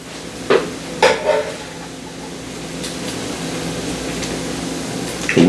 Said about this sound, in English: Let me get me a slotted spoon.